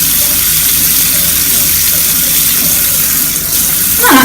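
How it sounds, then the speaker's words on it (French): Tap water runs steadily into a sink as hands are rinsed and a cleansing gel is lathered, a constant close gush with a brief change in flow near the end. "Que je vais passer sous l'eau et que je vais émulsionner."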